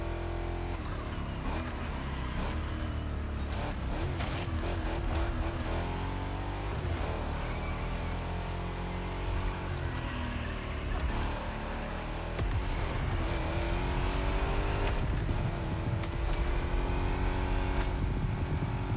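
Steady engine roar of a Ford F-150 SVT Raptor pickup in The Crew Motorfest racing game, held at high throttle with rising and falling revs and gear shifts over a continuous, loud drone.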